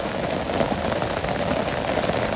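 Steady rain falls on a Bangladeshi village during the rainy season, a dense, even hiss of drops on surfaces, close and continuous with no let-up and no voices.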